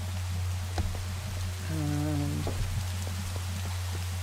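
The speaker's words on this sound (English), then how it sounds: "Oh, and there's the rain again." Steady rain falling in the video game Minecraft forms a constant wash of noise throughout, with a brief tonal game sound and a few soft clicks in the middle.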